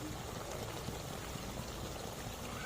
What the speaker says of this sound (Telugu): ఇప్పుడు దీనిలోనే పులుసు పోస్తాను.